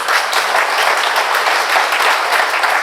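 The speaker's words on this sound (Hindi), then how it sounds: "तो एक बार मेरे लिए ताली कर दो ना यार।" Dense, loud applause from an audience at an anniversary celebration for a herbal products company, a continuous wash of clapping with no gaps and no talk over it.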